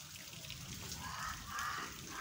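Rain falling outdoors on a university campus in Eldoret, Kenya, a soft steady patter and hiss in the background, fairly faint throughout.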